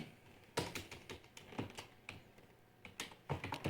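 Computer keyboard keys clatter nearby in quick irregular bursts with brief pauses as a video title is typed in Photoshop.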